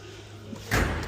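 A single heavy slam of the sliding door of an early Mercedes-Benz Sprinter panel van, loud and close, following a brief quiet stretch with low background rumble.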